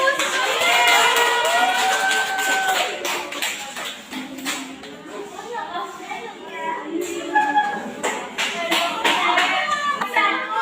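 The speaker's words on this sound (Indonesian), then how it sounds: "Beri tepuk tangan untuk kelompok 1" A class of junior high students claps and cheers for a presenting group in a classroom, with children's voices and shouts mixed in amid the clapping.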